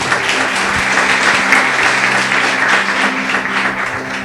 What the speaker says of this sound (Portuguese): Louve a Deus com as suas palmas, bem forte.